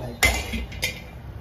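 A metal tawa griddle pan is pulled out, giving two quick sharp metallic clanks in close succession, near and fairly loud in a quiet kitchen.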